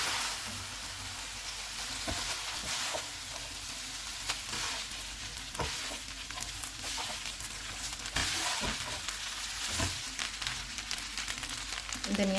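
Keema spaghetti with minced meat being stirred in a hot frying pan, a steady sizzle with irregular scraping and tossing sounds throughout.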